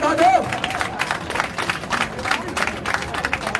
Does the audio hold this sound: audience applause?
yes